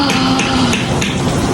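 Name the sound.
heavy rain falling outside in Karachi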